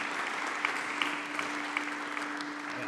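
Applause from an audience at an MBA in International Business graduation ceremony, a steady dense clapping wash that fills the room, moderately loud and unbroken, with a few sharper claps standing out and a faint steady hum beneath.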